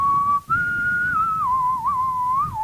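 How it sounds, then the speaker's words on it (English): A person whistles a sustained melody with gently sliding, wavering pitch, close and clear, with a brief break near the start and low room noise underneath. "Well, if you're going to whistle, I'm going to talk."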